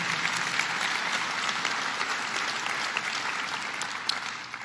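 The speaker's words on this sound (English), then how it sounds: "Let's give him another round of applause" A crowd at a citizen preparedness training event applauds a state senator, dense continuous clapping that holds steady throughout, fairly distant and even.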